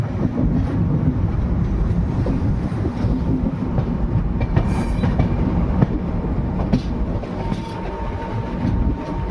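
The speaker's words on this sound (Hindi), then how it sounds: "कर्व करते हुए डिपार्चर ले रही है ट्रेन फुलेरा जंक्शन से" Express train pulled by a WDP4G diesel locomotive departing Phulera Junction on a curve, a loud continuous rumble of wheels and carriages with rhythmic clicking over rail joints, steady throughout and close by.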